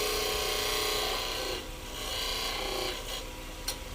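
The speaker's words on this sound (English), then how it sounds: "I'm going to switch to my small skew, 1/2 inch skew" A half-inch skew chisel shaves wood on a spinning lathe in a steady, rough rasping hiss that dips and swells as the cut varies, with a brief sharp tick near the end; close and alone, no speech.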